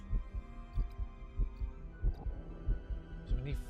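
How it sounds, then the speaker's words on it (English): A heartbeat plays in the Star Trek Voyager – Across the Unknown video game, a steady run of deep double thumps, about one beat every two thirds of a second, loud and close. "I can actually hear the heartbeat."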